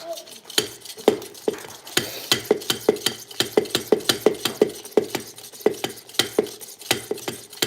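Waffle or pancake batter is mixed in a plastic Pampered Chef batter mix-and-dispense container, giving a fast, steady run of sharp knocking and sloshing strokes that stays close and fairly loud throughout.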